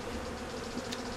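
Dense swarm of honey bees buzzing steadily while being moved from an old fish tank hive into a Flow Hive, a continuous close, even hum filling the whole short stretch.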